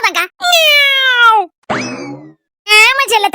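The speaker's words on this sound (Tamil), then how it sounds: "பயப்படாதக்கா பூனை தான்க்கா." Loud, close meows, a long drawn-out cry followed by a rising yowl, then another meow; no talking.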